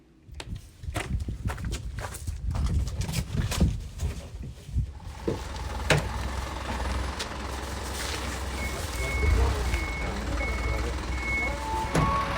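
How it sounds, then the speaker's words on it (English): A garbage collection truck in a Japanese street backs up, sounding its repeating reversing beeps under engine rumble and footsteps nearby, with a steady tone chiming through the second half. "And here's the big truck that comes and picks things up."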